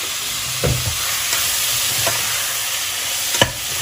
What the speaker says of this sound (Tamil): இப்போது தக்காளி நல்லா வதங்கிட்டு இருக்கு.